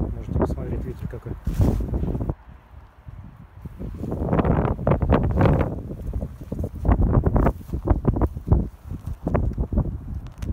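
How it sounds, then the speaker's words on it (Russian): Gusty outdoor wind buffets a Sony voice recorder's microphone, producing deep rumbling blasts that rise and fall irregularly, with a person's voice heard at times between the gusts. "Можете посмотреть, ветер какой."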